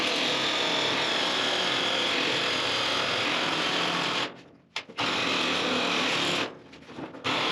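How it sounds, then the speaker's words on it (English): Power shears bite steadily through the edge of a metal ceiling panel, a loud continuous buzzing cut that stops briefly twice near the end before resuming. "We're going to try the shears again on this cut."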